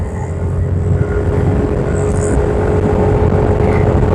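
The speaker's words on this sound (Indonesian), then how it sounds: "suara knalpotnya berisik banget" A loud, steady 150 cc automatic scooter engine drone with a rough exhaust rumble on a steep climb, close and continuous, no voices over it.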